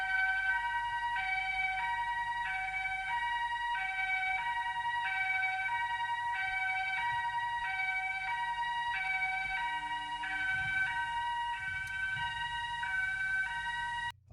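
An ambulance siren wails in a steady repeating two-tone cycle, loud and continuous throughout, with faint low rumbling underneath.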